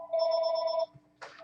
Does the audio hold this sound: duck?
no